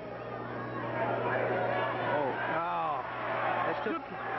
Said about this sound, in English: Crowd becoming a little more vocal.